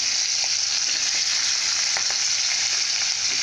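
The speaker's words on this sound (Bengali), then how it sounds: "পেঁয়াজটা ভালোভাবে ভাজা হয়ে গেছে" Onions sizzle steadily in hot oil in a pan for a bitter gourd curry, a loud, even frying hiss with a few faint clicks of stirring throughout.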